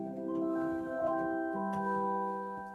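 Electronic organ with 16-foot and 8-foot flute stops drawn together plays soft held chords, shifting to a new chord midway, sustained and even with no talking.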